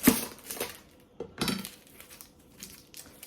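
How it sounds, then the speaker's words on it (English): A knife chops through an onion on a cutting board, a few sharp close knocks and crunchy slices with quiet pauses between them. "So let's get this onion cut up."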